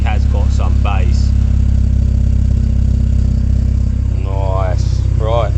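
A VW Golf GTi 16v fitted with a new exhaust idles close by, a steady deep bassy rumble running throughout while a person talks over it.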